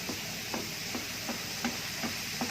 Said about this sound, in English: we're going to saute this up till it's nice and brown, not too brown, not dry